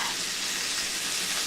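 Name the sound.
breaded pork chops frying in skillet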